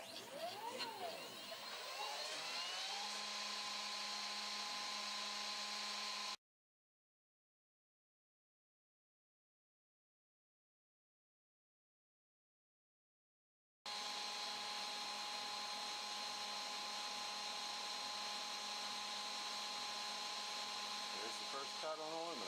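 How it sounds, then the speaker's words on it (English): A G0836 milling machine makes its first cut into aluminum, a loud, steady high-pitched whine with motor hum, running several seconds, breaking off for a long silence, then resuming just as loud. "There's the first cut on aluminum."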